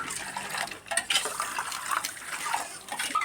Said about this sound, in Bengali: চলো শরবতটা ঘুলি, এখন চিনি চিনি হয়ে রয়েছে দেখতে পেয়েছো, এটাকে ঘুলতে হবে